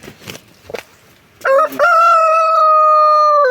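A rooster on a free-range chicken farm crows loudly and close up, one long sustained cock-a-doodle-doo following a couple of brief clucks and a short squawk.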